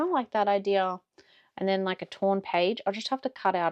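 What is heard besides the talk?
No everyday noise stands out behind the speech.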